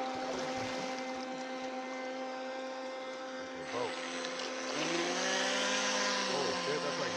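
A battery-powered electric boat motor with a Rock Masher battery runs at speed on the water, a steady loud whine with strong tonal hum that swells and shifts pitch after a few seconds, continuous throughout.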